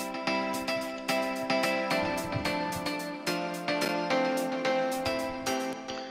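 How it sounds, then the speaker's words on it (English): Hi-hat loop programmed in FL Studio, played without note panning: a steady, bright rhythmic pattern of short metallic ticks over a sustained tonal backing, evenly repeating for about six seconds. "I have prepared a hat loop section."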